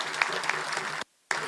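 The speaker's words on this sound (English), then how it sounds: "Can you give them a round of applause?" An audience applauds a performing reggae group at a commemoration event at the Ethiopian Embassy, steady close clapping briefly cut by a short silent gap before resuming.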